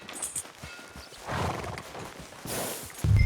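A horse in Red Dead Redemption 2 clops its hooves on a town street and gives a short whinny, with a louder thump closing the clip.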